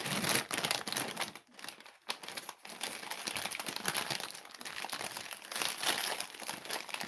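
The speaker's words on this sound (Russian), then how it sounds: "знаете, как разрывается, да, пакетик? Вот так вот разрывается." Close, crackly crinkling of a plastic ice cream wrapper being pulled and torn open, continuous with a couple of brief pauses.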